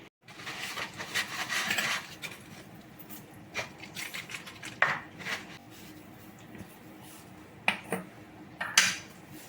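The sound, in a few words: brass puja utensils clinking while being handled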